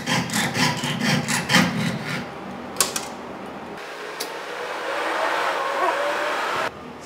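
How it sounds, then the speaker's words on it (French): A jeweler's fine saw cuts a shape in a workshop, with quick rhythmic rasping strokes at first, then a few sharp ticks and a quieter steady scraping, close and clear. "il faut juste vraiment laisser la scie faire le travail"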